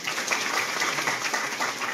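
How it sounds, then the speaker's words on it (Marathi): Audience applause at a community awareness gathering in a village, a steady wash of many hands clapping at moderate loudness with no clear pauses. "अरे बाबा टाळ्या वाजवा."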